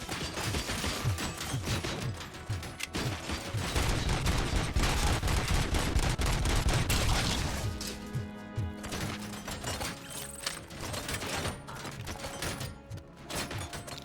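Gunfire from a gun in the shooter Robocop Rogue City rattles in rapid automatic bursts, loud and dense at first, then thinning into sparser shots with mechanical clicks and metallic clatter, no speech.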